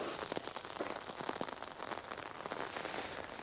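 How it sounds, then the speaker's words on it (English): Freezing rain during an ice storm patters softly and steadily, a dense faint spatter of drops tapping on tree branches and an umbrella overhead. "Look at the rain in the trees. It's freezing."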